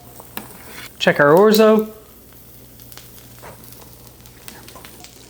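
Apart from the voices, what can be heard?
asparagus sizzling in a grill pan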